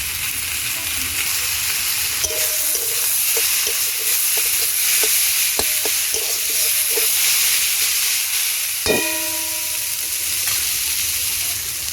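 A paste of ginger, garlic, cumin, dried chili and coriander sizzling and frying steadily in a pan, a loud continuous hiss up close with occasional scrapes and a sharp clank near the end.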